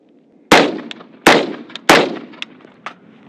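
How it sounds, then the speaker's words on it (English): Three sharp rifle shots crack close by, fired through a Dead Air muzzle device on a piston-driven rifle, each followed by a short echoing tail and a few faint clinks of falling brass. "shoot a few rounds of this thing"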